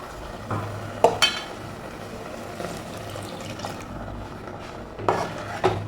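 A spoon stirs ground coconut paste into a simmering potato and drumstick curry in a pot, with soft wet sloshing and a few sharp clinks of the spoon against the pot rim, close and moderate in volume.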